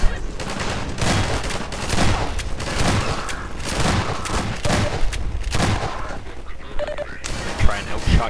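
Soldiers fire on the player in the video game Half-Life 2, with rapid bursts of gunfire and sharp shots close by, mixed with impacts, while a voice talks over the shooting.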